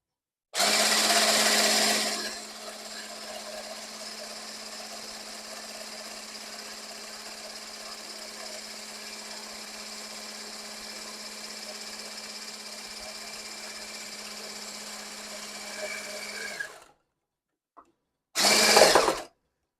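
Electric hand mixer whipping a foamy mixture as sugar is added, a steady loud whirring drone that runs alone for about seventeen seconds, then stops briefly before a short burst of mixing resumes.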